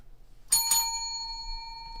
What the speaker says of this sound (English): That's the closest thing I have to a bell. Well, it is a bell, such as it is.